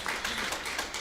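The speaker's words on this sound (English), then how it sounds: "Let's give a round of applause." Applause from a women-in-sport conference audience, a short, fairly faint patter of hand claps from a modest crowd.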